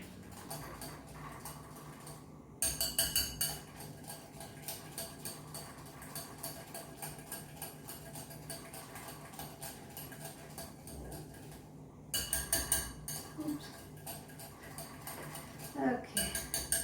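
For eggless chocolate chip cookie dough, a whisk rattles rhythmically against a bowl, with quick repeated clinks. Two louder bursts of scraping and tapping stand out, and a voice comes in at times.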